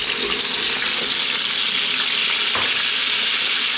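Potatoes fry in hot oil with cumin seeds, a loud, dense, continuous sizzle close up with no talking.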